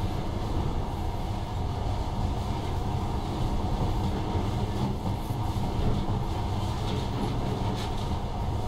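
Monorail train running in the video game Metro: Last Light, a steady, loud rumbling ride with low mechanical drone and faint rattling, continuous throughout with no talk.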